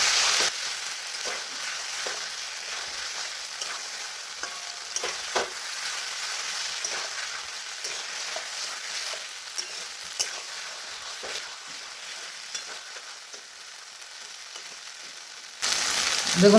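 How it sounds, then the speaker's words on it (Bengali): Fried potatoes stirred into a spice masala for a potato and egg curry, with a steady, close sizzle of frying, soft scraping of stirring through it, and no talk. "এর মধ্যে আবার ভালো করে আলুটাকে মিশিয়ে নেব মশলার সাথে"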